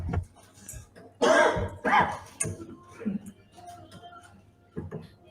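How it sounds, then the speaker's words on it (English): A person coughs a few times at moderate distance amid background chatter and a possible dog bark, while people talk during a live stream. "Clearly having a good cough."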